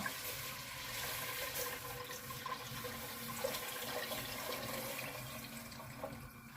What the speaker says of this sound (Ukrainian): Змішуємо молочко і виливаємо його у кастрюльку.